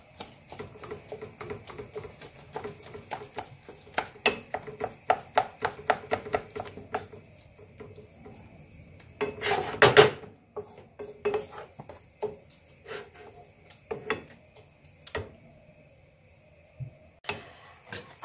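Sandwich bread being crushed and mashed into a stuffing for Breton-style scallops in a home kitchen, heard as a run of close, irregular taps and knocks against a dish with a few sharper scraping bursts.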